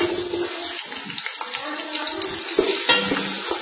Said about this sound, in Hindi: सबसे पहले एक पतीले में हम ऑयल गरम करेंगे और उसमें शामिल करेंगे प्याज